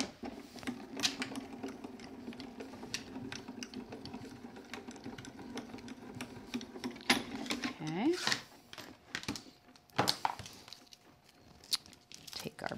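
A card-crafting die and card on an embossing mat roll through a manual embossing machine, producing a steady mechanical whirring and grinding with clicks and crunches, while someone talks over it.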